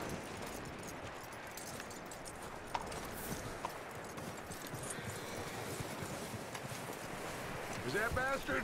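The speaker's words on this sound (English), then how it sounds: "That looks like a decent horse." Horse hooves clip-clop steadily in Red Dead Redemption 2, a continuous trotting patter under a busy ambient bed, with a brief burst of louder, faster activity near the end.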